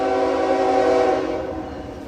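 A K5HL multi-chime train horn sounds one loud, sustained chord at close range, holding steady and then fading slightly toward the end, with no talk over it.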